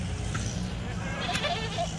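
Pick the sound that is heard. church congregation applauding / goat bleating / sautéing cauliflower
goat bleating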